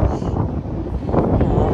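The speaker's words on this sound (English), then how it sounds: "It's also pretty windy up here." Gusty wind buffeting a microphone atop the Space Needle in Gatlinburg, Tennessee, low rumbling roar that swells and dips, with a voice partly mixed in.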